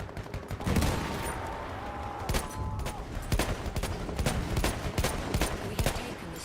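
Gunfire in a Battlefield video game: dense bursts of rapid automatic shots and scattered single cracks, loud and close, continuous through the moment with no talk.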